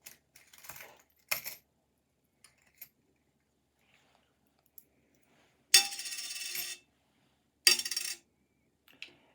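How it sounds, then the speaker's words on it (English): A pre-1982 copper penny is dropped onto a hard surface a few times, giving brief bright metallic clinks and rattles separated by silence, close by. "It has a different sound than the modern penny."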